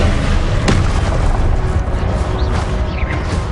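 A Confringo blast spell in Hogwarts Legacy goes off as a loud, dense booming burst with one sharp crack early on. Rumbling, crackling noise continues through the rest of the moment.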